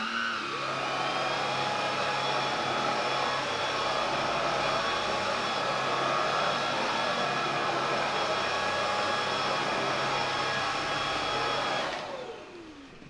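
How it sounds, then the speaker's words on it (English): A Kalado cordless vacuum cleaner runs steadily on a gaming mat with a high-pitched motor whine and airflow hiss, then switches off near the end as the motor winds down. "Let's see if it can vacuum it on a gaming mat."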